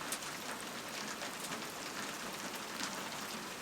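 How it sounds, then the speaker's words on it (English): Steady rain falls outdoors, a soft, even hiss of drops pattering on surfaces, fairly quiet and continuous with no voices. "Even the rain is nice here."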